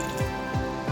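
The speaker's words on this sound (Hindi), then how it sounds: "अब इसके अंदर हम पानी ऐड करेंगे 1 गिलास।" Water poured into a pressure cooker holding mutton gives a close, wet splashing that swells and fades in three short pulses with no voices.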